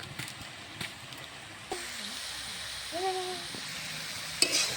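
Fresh pea greens are stirred and fried in a wok, giving a soft steady sizzle with a few scraping clatters of the utensil; quiet and close.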